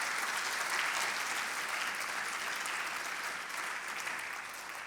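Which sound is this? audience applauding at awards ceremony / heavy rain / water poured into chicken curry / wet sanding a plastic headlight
audience applauding at awards ceremony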